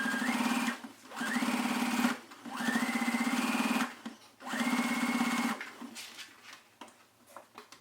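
Close sewing machine back stitching a pencil skirt seam along the facing, whirring in four even bursts with brief pauses between, then tapering off into light handling noise.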